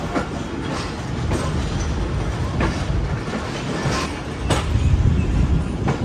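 A passenger train rolls into Kanpur railway station with a continuous rumble and rhythmic clickety-clack of wheels over rail joints, heard from on board, fairly loud and steady throughout.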